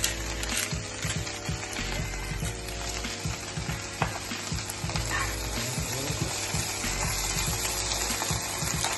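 Spinach sizzles in a pan with oil and garlic, a steady loud frying hiss layered with stirring scrapes and soft crackles throughout, no voices.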